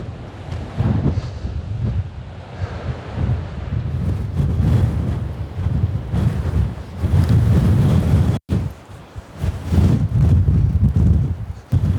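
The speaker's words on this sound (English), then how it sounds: "A windswept beach with sand flying everywhere." Strong wind blowing across a windswept beach with sand flying, roaring loudly and continuously into the microphone with gusty buffeting and faint surf beneath.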